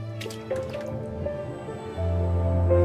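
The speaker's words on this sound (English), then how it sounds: "Add enzyme solution to soften fibers." Enzyme solution pouring into a leather tanning drum in a factory, heard as a steady liquid fill with dripping and squishy sloshing that grows louder and heavier midway, over a low machine hum.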